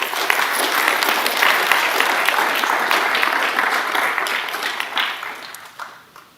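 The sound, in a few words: audience applause for students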